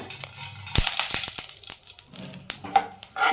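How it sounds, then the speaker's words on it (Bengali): Mustard seeds spluttering in hot oil under a covering lid, with sharp irregular pops and crackles over a low sizzle and a few metallic knocks. "সর্ষে দিলেই ছিটকে যাবে, তাই আমি ঢাকা দিয়ে দিলাম।"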